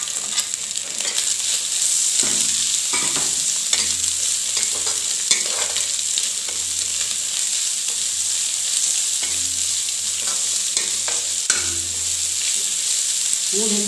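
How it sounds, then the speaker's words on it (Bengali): Dhekia fern greens frying in a pan give a loud, continuous sizzle with a low hum beneath and scattered clicks of stirring throughout. "মই এতিয়া ঢেকীয়া শাকখিনি দি দিছোঁ, ভাজি থোৱা ঢেকীয়া শাকখিনি দি দিছোঁ"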